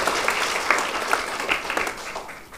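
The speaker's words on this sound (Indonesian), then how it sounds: "boleh kita berikan tepuk tangan sekali untuk mereka." An audience claps for a class drama festival performance by a Year 10 science class in a school hall. Dense, fairly close applause with distinct individual claps, easing off slightly toward the end.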